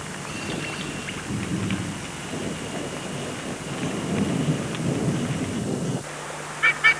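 Steady rain falls with low rumbling thunder through a storm while a nesting bird shelters its chick, the downpour broad and continuous, ending with a low hum and a few brief sharp sounds.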